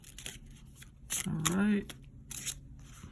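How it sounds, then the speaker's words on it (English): Tarot cards are riffled in a brief, close flutter of papery snaps lasting under a second, with a voice speaking quietly just before. "we're done shuffling"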